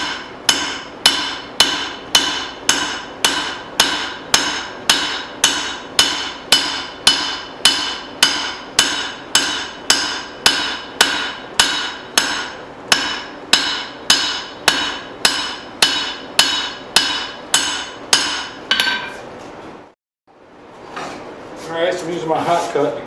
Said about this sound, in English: And I'm just going to forge a wedge.